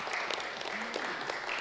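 Brief, fairly faint clapping from a gathering at a resolution presentation, many hands patting together with voices mixed in beneath.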